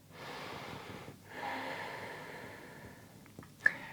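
Slow, deep breath drawn in and let out during a yoga class, soft airy inhale then a longer exhale, close and quiet, ending with a brief sharper snort-like puff.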